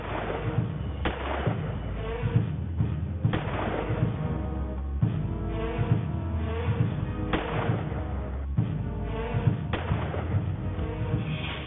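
Celebratory gunfire at a ceremony in Madhya Pradesh: repeated sharp bangs and thuds at irregular intervals over a busy crowd hubbub and music, moderately distant and somewhat muffled.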